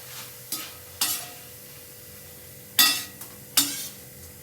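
Poha flakes fry in hot oil with a faint steady sizzle, broken by several sharp scraping stirs of a slotted spoon in the pan, spaced irregularly and close by.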